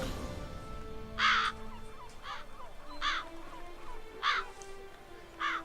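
Crows cawing in The Witcher 3 video game, five harsh caws spaced a second or so apart over a low ambient game background.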